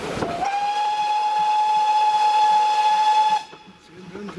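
A steam train on the WSR railway sounds one long, loud whistle lasting about three seconds, with a steam hiss and rail noise under it. The whistle then cuts off, leaving quieter rumbling.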